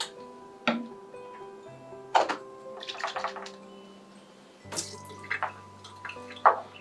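Turbidity calibration solution splashes and sloshes as a sensor cup on a water quality probe is rinsed, giving several short close bursts of liquid with faint dripping between them.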